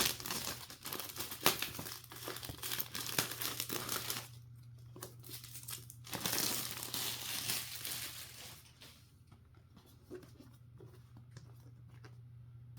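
Packaging of a DJI Mini 4 Pro box crinkles and rustles up close, with dense paper and plastic crackling that eases into quieter handling over a low steady hum.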